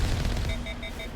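Rapid gunfire from the player's weapon in a sci-fi shooter, a dense burst of close shots over steady game noise, with no talking.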